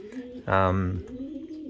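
A single throaty racing pigeon coo rises out of a soft murmuring of birds in an enclosed loft, close by and moderately loud.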